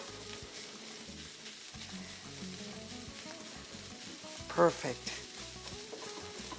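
Machaca meat sizzles and crackles in a pan at low level, with a soft continuous fry and a brief louder clatter midway. Someone says a short word once.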